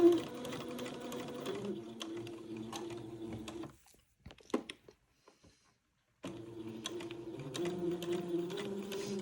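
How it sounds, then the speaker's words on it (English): A sewing machine runs a line of stitching along the armhole of a baby garment, a steady close mechanical whir with a roughly two-second stop and a few soft handling clicks before it starts again. "I'm going to sew a line along the opening of the armhole"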